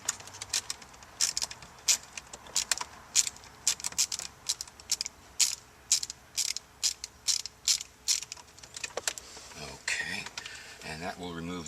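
A ratchet clicks in quick, evenly spaced bursts while backing screws out of a car dashboard panel, close and crisp, pausing briefly between strokes; a voice speaks faintly in the background.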